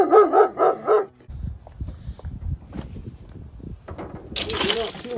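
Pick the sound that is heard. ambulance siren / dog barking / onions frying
dog barking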